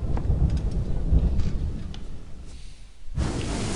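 Stormy weather at sea in Assassin's Creed 3: a steady roar of wind and rain with low rumbling, briefly dipping quieter before surging back, no talk.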